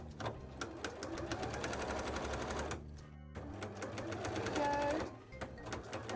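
Sewing machine top stitching a cosplay headpiece, a rapid, steady mechanical clatter close by, pausing briefly midway and then running again before slowing at the end.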